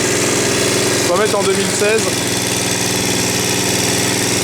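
A Honda HR-21 lawn mower with a GV150 engine, restored and just restarted, idles with a steady, slightly shaky rumble, loud and close, while someone speaks briefly over it partway through.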